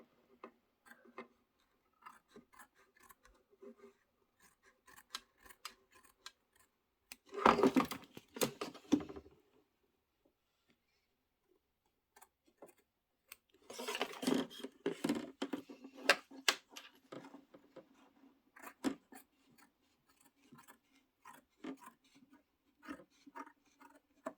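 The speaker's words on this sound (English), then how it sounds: "Carefully trim the batting from inside the stitched box." Scissors trim quilt batting from inside a stitched embroidery box, with soft scattered snips and clicks, two denser bursts of close cutting, and quiet gaps between them.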